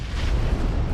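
A grenade goes off in PUBG Mobile during a competitive match, a single sustained low rumbling blast that fills the whole moment at close range and high volume.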